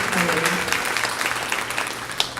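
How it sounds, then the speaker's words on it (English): Audience clapping at a talent show quarter-final for a contestant, a dense, steady burst of applause from a nearby crowd with voices mixed in underneath. "round of applause to Cody"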